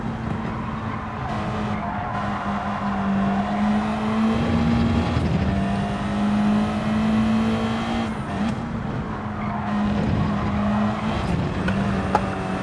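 Race car engine droning steadily on track in a racing video game, with tire squeal and skidding as the car slides through corners, loud and continuous with a few brief dips.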